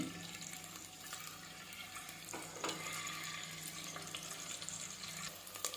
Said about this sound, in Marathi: व्यवस्थित असं पूर्ण दोन्ही बाजूने फ्राय करून घ्यायचे